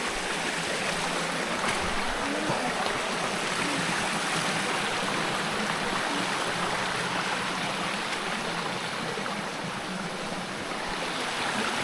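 A river stream flows steadily in an overgrown rural area, a continuous close wash of water rushing over rocks that holds an even level throughout, with no voices.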